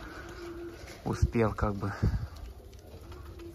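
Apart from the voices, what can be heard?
pigeons cooing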